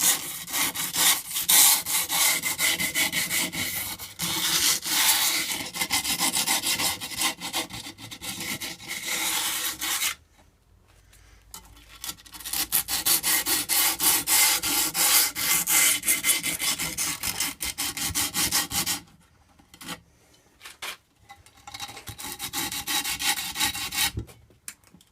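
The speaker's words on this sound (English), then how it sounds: "the next step is to just file down the edges with the grip tape with another piece that you cut off" A scrap of grip tape rasps along the edges of a scooter deck, making a steady run of loud, rough scraping strokes. The strokes stop in two short pauses partway through, and no one speaks.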